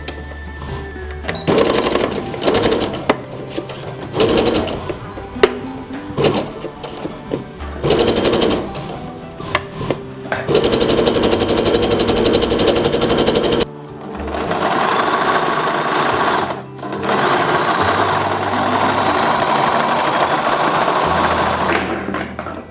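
Sewing machine stitching both side seams of a skirt, loud runs of rapid mechanical clatter in bursts of a few seconds, separated by short pauses, with some longer steady stretches.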